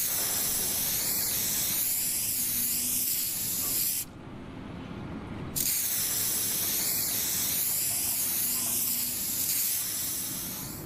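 Steady aerosol spray hissing close by, continuous for several seconds, briefly stopping then resuming for another long burst.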